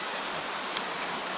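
Steady rain falling at night, a dense even hiss with a few faint drop ticks, unbroken and alone for a brief moment.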